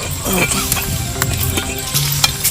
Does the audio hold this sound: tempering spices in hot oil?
yes